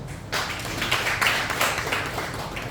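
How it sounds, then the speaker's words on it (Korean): Audience at a Lions Academy monthly meeting and research presentation applauding after a presenter is introduced, a steady wash of clapping that starts abruptly after a brief quiet moment and carries on at moderate level. "일부 연구 발표 사회부진 신남수 위원장님께 뜨거운 박수 보내주시죠."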